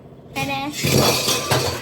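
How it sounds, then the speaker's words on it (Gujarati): Utensils clink and clatter briefly as dishes are washed, close by, while a voice talks over the clatter. "ચાલ જલ્દી બર્તન ધો"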